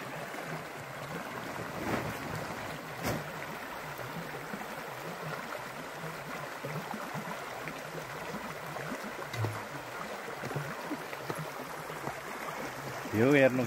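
The Than Khola stream flows in a steady, broad rush of water that carries on throughout, with people talking over it.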